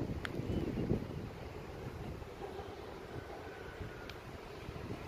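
Wind blows beneath a bridge at Nhật Tân village in Hanoi, a steady low rush buffeting the microphone. A couple of faint, brief higher sounds break through it.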